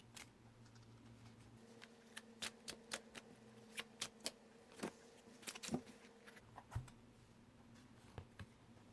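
A series of crisp, irregular tarot card flicks and riffles, close by and fairly soft, over a steady low background hum with no talking.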